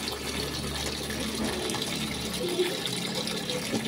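Water gushes steadily into a Sharp automatic washing machine as it fills, a continuous splashing flow heard close by with no talk.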